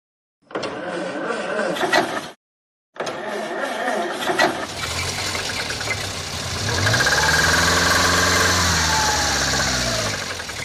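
A car engine starts up and idles with a steady, rumbling drone, then revs up louder; people talk over it at first.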